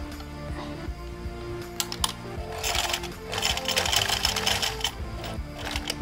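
A sewing machine stitches a closing seam on a homemade cloth face mask with a replaceable filter pocket, its motor whirring in short runs that build into a steadier, louder burst near the middle before easing off.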